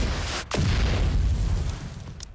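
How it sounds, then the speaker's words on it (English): Heavy, rumbling blasts from a video game war scene: a deep boom shortly after the start, then sustained low roar of distant artillery and explosions, loud and dense throughout. "Snow White's gunfire melds with artillery fire off in the distance"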